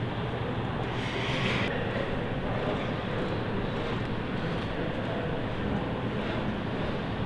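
An aluminium panel being rolled on an English wheel during restoration work on the Lancaster NX611 bomber gives a steady, dense rolling rumble throughout, close and unbroken, with no voices over it.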